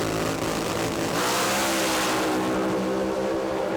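Two funny car drag racers of about 4,000 horsepower each, revving hard on the start line at a drag strip, a loud dense roar that is sustained and close throughout, with no speech.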